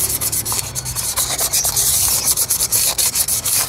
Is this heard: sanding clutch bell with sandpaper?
yes